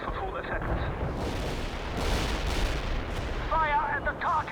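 Artillery barrage in the strategy game World in Conflict, a dense, continuous roar of booming impacts and rumbling fire filling the whole stretch, with radio-style voices chattering briefly near the end.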